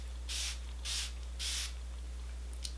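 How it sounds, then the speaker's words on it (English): Smashbox Photo Finish Primer Water setting spray spritzed three times in a steady rhythm, each a short, close, airy hiss over a low background hum, with no talking. "So I just spritz it on a few times"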